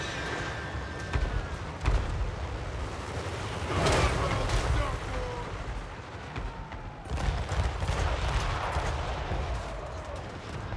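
Ranged units in Total War: Warhammer 3 battle fire volleys of muffled shots and booming artillery-like blasts in irregular bursts over a steady battlefield din, with voices talking through it.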